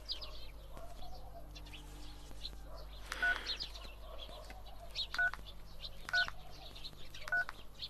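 Telephone keypad tones sound as a number is dialed, several short beeps in an uneven sequence, fairly clear against quiet background with faint birds chirping outdoors.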